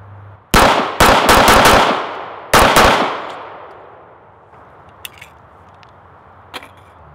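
Gunshots from a .45 caliber 1911 pistol: a rapid burst of four sharp, loud shots, then a fifth after a short pause, each echoing away outdoors, with a few faint distant pops afterward.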